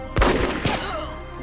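Gunfire in a war film depicting an American surprise attack on Japanese positions: a loud close shot followed by a few rapid reports that ring out and decay into a rumbling tail.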